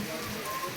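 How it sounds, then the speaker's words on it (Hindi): Rain falls steadily along the mountain pilgrimage trail to Tungnath in Uttarakhand, a soft continuous hiss of drops on surfaces, close and even, with no one speaking. "रुक रुक कर जो है बारिश हो रही है।"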